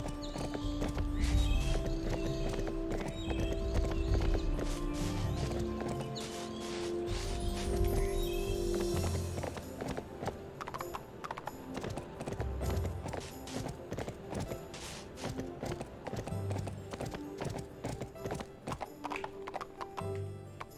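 Horse galloping in the video game Barbie Horse Adventures: steady, rapid clip-clop hoofbeats running throughout, with a whinny early on and game music underneath, no speech.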